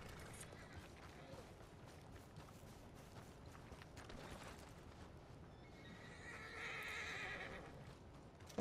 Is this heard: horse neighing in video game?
yes